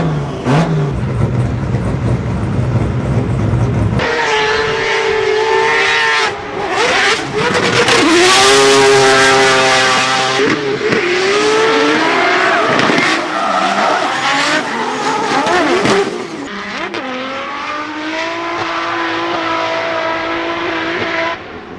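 A drift car at a D1NZ drift event, engine screaming through revs and gear changes with long wailing tire squeal and skidding, loud and close, sustained for over twenty seconds with brief drops between runs.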